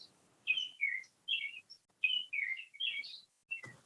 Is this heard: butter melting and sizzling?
no